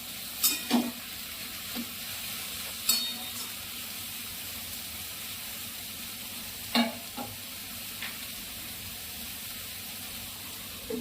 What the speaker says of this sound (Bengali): অল্প চিনি দিলাম অল্প নুন দিলাম দিয়ে এটা আমি ভালো করে নেড়ে নিলাম